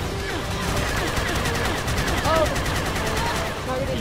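Rapid automatic gunfire from a sci-fi video game, dense and loud, with bursts overlapping into a continuous rattle and electronic game effects layered on top.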